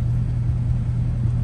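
A 2011 Ford F-250 Super Duty XLT engine idling smoothly, a steady, close low-pitched rumble with an even, unbroken drone.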